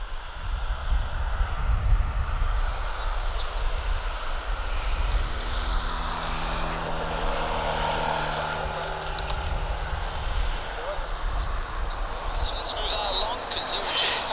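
An airplane engine drones continuously as the aircraft taxis at an airport, a steady moderate hum in the open air with someone talking over it.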